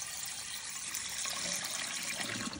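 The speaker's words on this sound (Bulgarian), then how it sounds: "Докъде трябва да напълниш вода?" Water running into a glass jar in a home kitchen while preparing lyutenitsa, a continuous splashing, rushing pour that stays loud and close for the whole stretch.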